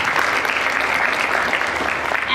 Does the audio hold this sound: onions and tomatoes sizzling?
no